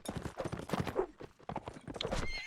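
Rapid, rhythmic clip-clop hoofbeats of a horse in a competitive video game match pound steadily and fairly close, with brief whinny-like tones mixed in and no talk over them.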